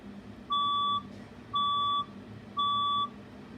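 A fire alarm test sounds three evenly spaced electronic beeps, each about half a second long, clear and steady with no voices.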